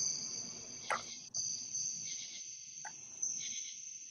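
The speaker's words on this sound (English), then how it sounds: "Oh, I hear your crickets, Avery." Crickets chirp outdoors at night in a steady, faint, high continuous trill, with a few soft clicks and knocks nearby.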